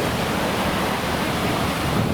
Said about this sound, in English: We're here at one of the best beaches in America, Fort Zachary Taylor Beach in Key West.